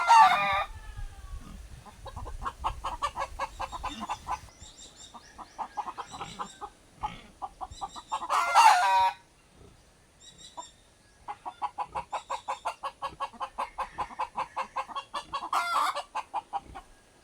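A chicken clucks in fast, agitated repeated bursts, with a couple of louder squawks breaking through, close by and otherwise quiet.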